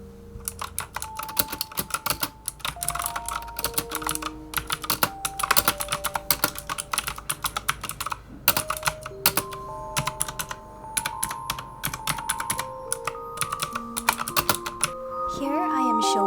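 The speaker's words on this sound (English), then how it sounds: "Here's a short clip of how typing on my keyboard with blue switches sound like." Close, clicky keystrokes on a pink Mage G mechanical keyboard with blue switches, typed in quick irregular bursts with short pauses, over soft background music.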